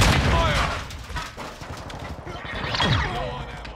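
Gunfire and blasts ring out in a Call of Duty Modern Warfare II match, overlapping bursts and booms with whizzing effects, loud and dense, while a voice speaks over the combat.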